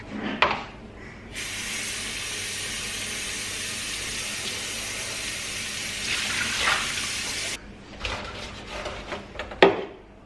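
Filtered water running from a tap into a container for thinning roasted sweet potato puree for baby food, a steady continuous splashing stream lasting several seconds, close by, with brief kitchen clatter before and after.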